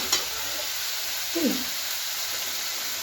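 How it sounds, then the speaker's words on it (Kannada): Something sizzles gently in a pan over a low flame, a steady, even hiss that runs throughout, with a brief faint tap near the start and a soft murmur midway. "ಲೋ ಫ್ಲೇಮ್ ಒಳಗೆ ಫ್ರೈ ಮಾಡ್ಕೊಬೇಕು."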